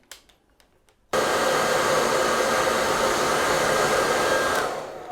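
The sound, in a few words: hair dryer blowing to dry hands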